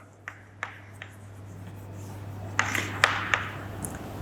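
Writing out a geometry proof gives sparse pen or marker scratches and taps, a few scattered near strokes over a low steady hum, with no talking.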